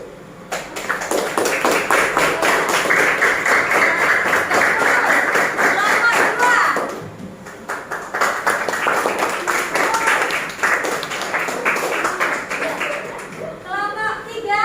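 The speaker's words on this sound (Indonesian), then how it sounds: "Tepuk tangannya berapa ini?" A classroom group of teachers or students claps in a rapid, dense burst for about seven seconds, pauses briefly, then claps again; voices and cheering mix in near the end.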